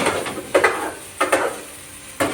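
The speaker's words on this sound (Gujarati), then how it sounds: "સૌપ્રથમ આની અંદર હળદર જે ઘીમાં ચોખ્ખી જે શેકાવી જોઈએ" Fresh turmeric roasts in ghee in a pan, with three or four short bursts of sizzling and stirring scrapes spaced a little apart against a quieter background.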